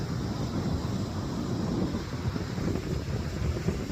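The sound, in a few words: strong wind blowing on an Iceland beach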